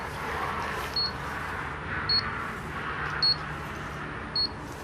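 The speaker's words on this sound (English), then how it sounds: "Three beeps on the last one." Four short, high electronic beeps from an Arc-Geo data logger completing a grid sound about a second apart over a soft, constant background hiss.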